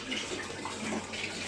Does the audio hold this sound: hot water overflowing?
yes